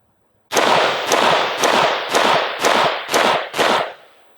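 Colt LE6920 AR-15 rifle fired seven times in an even, fairly quick series of loud, sharp reports outdoors, each with a short echoing tail, then the sound fades.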